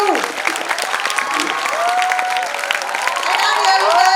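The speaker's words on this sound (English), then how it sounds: "Can we have a huge round of applause?" A large audience, including people up in a balcony, claps steadily and loudly at a speech event while a host's voice rises over the continuous applause with a few scattered cheers.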